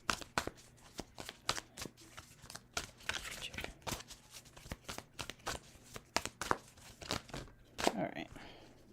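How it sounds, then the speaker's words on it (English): Tarot cards are shuffled and pulled from a deck in a quick run of crisp, close flicks and riffles, with a soft voice talking now and then underneath. "I'm just going to pull a bunch of cards"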